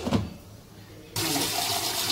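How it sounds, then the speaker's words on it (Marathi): Hot water poured into a simmering curry of fresh pigeon peas, starting abruptly partway through as a loud, steady splashing pour after a few faint clinks. "मी गरम पाणी ओतते."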